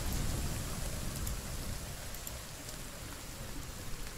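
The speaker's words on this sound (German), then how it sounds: "jetzt fängt es an zu regnen und zu stürmen" Stormy rain in The Forest video game, a dense steady wash of falling rain with a low rumbling undertone, strongest at first and easing slightly, no voices present.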